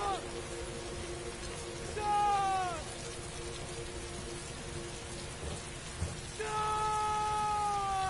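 Steady rain falls throughout a scene in the video game Heavy Rain, a continuous close hiss with brief tonal game sounds rising over it at a few points.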